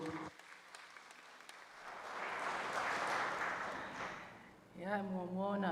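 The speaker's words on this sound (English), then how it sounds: "A round of applause for Awan Mole." An audience at a live televised presentation breaks into applause that swells, holds and fades over a few seconds before a voice begins speaking at the end.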